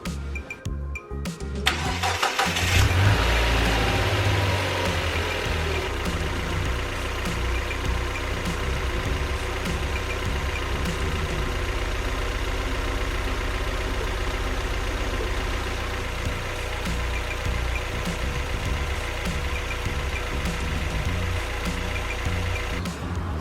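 A car engine cranks and catches, then settles into a steady, fairly loud idle that runs on alone with no talking.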